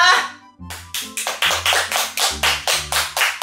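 Sparse, lukewarm clapping from a small group in a casual indoor chat, about a dozen crisp separate claps in an uneven rhythm, following a short bit of speech at the start.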